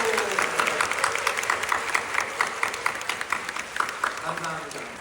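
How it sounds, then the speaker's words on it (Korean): A church congregation at a summer retreat closing service claps warmly to thank the staff, a steady run of many hands at moderate distance with faint voices underneath. "우리 그 모든 분들에게 감사하는 마음으로 우리 뜨겁게 박수 한번 해주세요"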